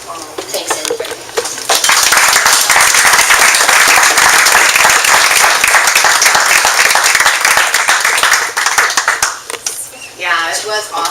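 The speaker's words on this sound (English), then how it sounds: "Let's give her another round of applause." Loud, sustained audience applause and cheering fill the room at a Successful Thinkers event in Modesto after a motivational speech, swelling quickly and holding steady for several seconds before tapering as a voice speaks near the end.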